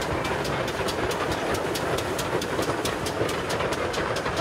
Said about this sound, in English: it's great we've got a steam train coming